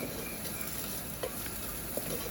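Onion, tomatoes and green chillies fry in a pan in a village kitchen, giving a steady, faint sizzle with a couple of small pops as the pieces are stirred.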